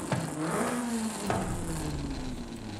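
A tuned car's engine in Forza Horizon 5, upgraded to a bigger 2.6-litre block near 400 horsepower, revs up and holds a steady droning pitch that rises and dips slightly, loud and continuous throughout.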